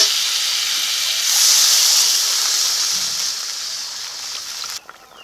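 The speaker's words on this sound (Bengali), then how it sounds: "আমটাকে একটু ভেজে নিয়েছি, এখন জল দিয়ে দিচ্ছি।" Water poured into a hot pan of fried mango gives a loud, close, continuous steam hiss that swells, then fades and cuts off near the end.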